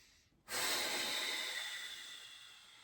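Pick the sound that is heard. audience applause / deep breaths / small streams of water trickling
deep breaths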